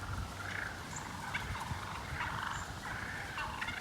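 Several turkeys gobble repeatedly in bursts over a steady outdoor background, fairly close, with overlapping calls.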